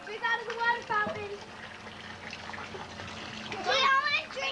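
A garden hose runs with a steady splashing water noise during a 1993 home-video outdoor play scene, mostly under the chatter of children and adults talking.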